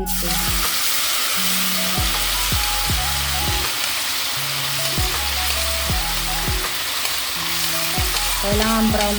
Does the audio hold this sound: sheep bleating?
no